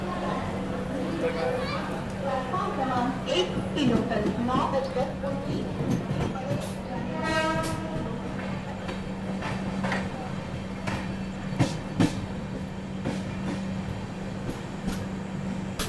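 The 12289 Mumbai–Nagpur Duronto Express runs along the Manmad–Bhusaval line with a steady rumble and rhythmic rattling of the carriages, heard from on board with a voice talking over it.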